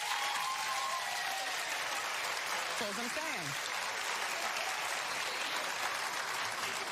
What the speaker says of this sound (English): Clap if you think she should get 3 years